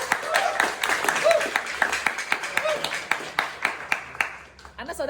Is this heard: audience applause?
yes